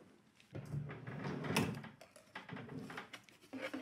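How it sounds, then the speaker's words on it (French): Someone rummages through a drawer, likely among books: close, quiet shuffling, scraping and a run of small knocks and bumps, with no voices over it. "cherche dans son tiroir"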